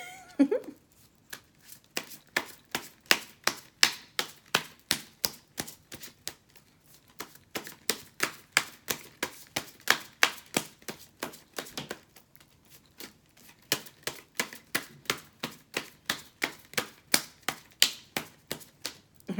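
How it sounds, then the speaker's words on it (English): Rapid, rhythmic riffling snaps repeat in bursts, like cards being shuffled over and over at close range, with short pauses between runs. "that was too many cards, so I'm gonna shuffle that again"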